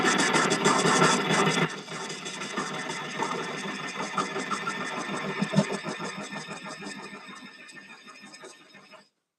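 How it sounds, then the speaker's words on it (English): Woodturning gouge cutting wood on a lathe, a rough, fluttering scraping drone that is loudest at first, then drops back and continues with irregular rhythmic grating until it stops. "I would take my gouge."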